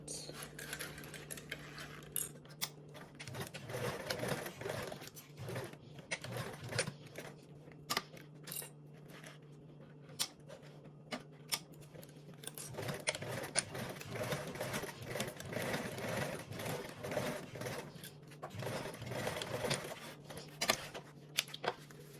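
A sewing machine stitches a 3/8 inch seam in quick runs of rapid mechanical whirring, with brief pauses between bursts and faint clicks, heard up close.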